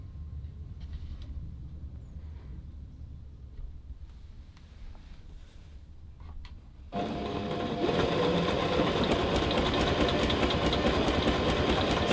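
Oekaki sewing machine stitching a buttonhole, a quiet hum at first, then the motor kicks in loudly with a rapid, steady mechanical whir and needle chatter that keeps running, close and without talk.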